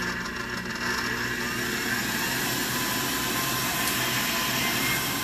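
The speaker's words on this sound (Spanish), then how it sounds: "Ahora en la batidora vamos a poner las claras." Electric mixer fitted with a balloon whisk beating egg whites until foamy for a sponge cake, a steady, loud, continuous motor whir that runs unbroken throughout with no talk.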